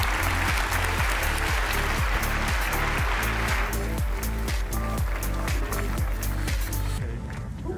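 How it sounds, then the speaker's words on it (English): A conference audience in Copenhagen claps in a sustained, even round of applause to welcome a speaker to the stage, the clapping dense and steady before tapering off near the end. "Please give a warm welcome to Eva."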